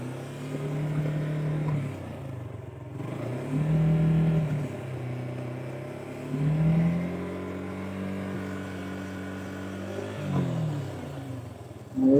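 Suzuki Gixxer motorcycle with its original exhaust, revved in gear in several separate rising and falling bursts spaced a few seconds apart, fairly close and alone.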